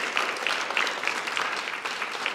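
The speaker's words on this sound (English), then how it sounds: "Another round of applause for Dr. Phillips and Amy Becker." A crowd in a campus lunch gathering claps steadily after a presentation, a moderate, even patter of many hands with a few sharper individual claps standing out.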